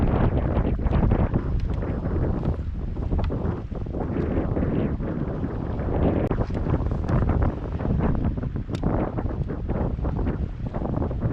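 Strong wind blows across the microphone on a busy Denver lake while fishing, a continuous loud rushing buffeting noise with gusty surges throughout.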